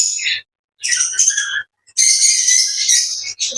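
A caged pet bird at its nest with eggs gives bursts of sharp, high chirps and squawks, loud and close, separated by short silent pauses.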